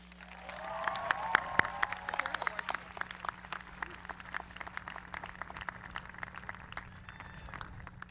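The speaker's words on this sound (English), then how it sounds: "Please give a round of applause to our first outstanding senior," A graduation audience breaks into applause for an outstanding senior, a dense, steady patter of many hands that continues at moderate volume across the whole stretch with no talking over it.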